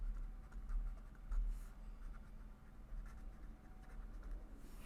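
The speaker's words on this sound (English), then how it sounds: "I should write it down here" A pen writes on paper in quiet, continuous scratchy strokes, faint and close, with no talking.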